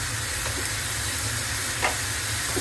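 Green chillies and garlic paste frying in a pan for a fish-head bhuna, a constant hissing sizzle with a low hum beneath and a couple of brief clicks, no one speaking.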